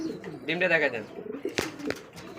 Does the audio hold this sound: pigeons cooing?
yes